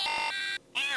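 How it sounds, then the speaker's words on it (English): Chopped vocal sample built from Star Wars Battle Droid malfunction sounds and droid dialogue: bright, buzzy, pitched electronic tones in short stuttering segments, with a brief cut to near silence before a sliding, warbling phrase returns. "It's a little bit of a mix of the dialogue and the droid malfunction sounds."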